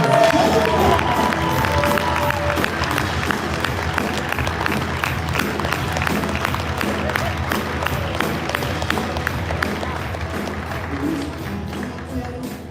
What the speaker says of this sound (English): Guys, give Joe McCall a round of applause.